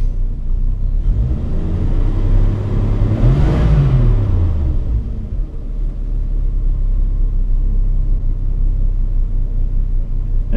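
A one-barrel car engine revs once from a steady rumbling idle, climbing sharply to a loud peak and falling back to idle, close and alone with no talk.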